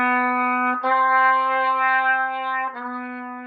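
Trumpet holding a steady sustained note, changing pitch twice with brief breaks as the third valve slide is kicked out, played solo and close.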